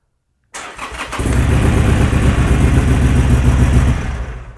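A motorcycle engine cranks briefly, then catches and settles into a loud, steady idle heard up close, running alone with no talk.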